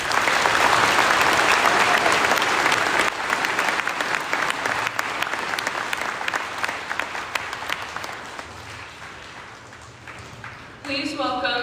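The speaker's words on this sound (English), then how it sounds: "Let's offer all the winners of our writing contest one last big round of applause." Sustained round of applause from a high school assembly audience honoring writing contest winners at a Veterans Day event, loud and steady for about ten seconds before tapering off as a voice begins speaking near the end.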